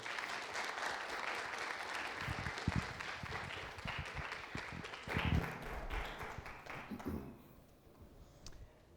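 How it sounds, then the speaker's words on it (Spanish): Welcoming applause from a conference audience greets the speakers, a broad wash of clapping with a few louder knocks and shuffles midway, fading down near the end; quiet and roomy overall. "vamos a recibiros con un fuerte aplauso"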